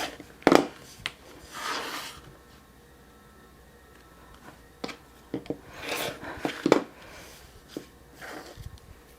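Rotary or blade cuts trimming a paper-pieced fabric quilt block along its line, with a few sharp close slicing and rustling strokes separated by pauses.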